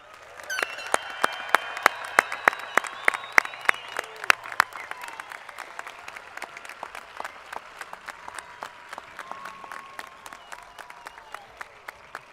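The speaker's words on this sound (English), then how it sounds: "Let's give these seniors a well-deserved round of applause." Applause from a high school graduation crowd for the class of 2021 seniors, sustained clapping with sharp individual claps and some cheers and voices, gradually thinning out.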